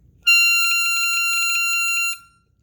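Shrill, steady overdraw squeal on hole 9 of a Kongsheng Soloist folk harp harmonica, a single sustained piercing tone of about two seconds, close and loud, played alone.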